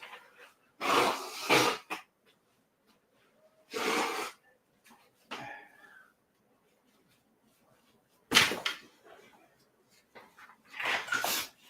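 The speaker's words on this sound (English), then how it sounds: "I need to blow my nose." Several loud, breathy nose blows in short bursts, one followed by a brief sniff, with quiet gaps between them.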